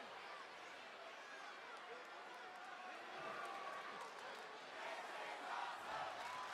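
A large wrestling arena crowd at a live WWE SmackDown show roars and cheers in a steady, dense wash of voices that swells slightly toward the end, with no single voice standing out.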